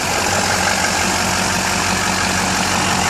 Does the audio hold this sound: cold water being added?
no